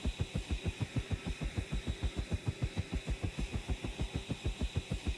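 Helicopter engine in a video game prototype throbs in a fast, even chop of about five beats a second, steady and unbroken, with a faint whine above the low pulsing and no voices.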